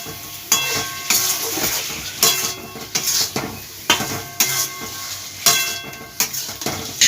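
Pointed gourd frying in a pan, stirred in with salt and sugar: a spatula scrapes and knocks against the metal pan in roughly a dozen brisk, uneven strokes over a faint, steady sizzle, with no voices.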